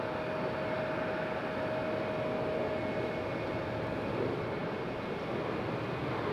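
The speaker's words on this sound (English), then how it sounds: "JetBlue on the roll" A JetBlue airliner on its takeoff roll at Raleigh-Durham airport, a steady distant engine roar with a faint whine, even and unbroken throughout.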